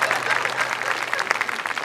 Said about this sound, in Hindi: एक बार जरा जोरदार ताली बजाए इसकी समझदारी में।